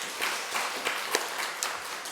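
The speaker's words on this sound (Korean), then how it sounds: "하나님께 영광의 박수 돌려드리겠습니다." Church congregation clapping in worship, scattered uneven claps forming a brief, thin round of applause over about two seconds.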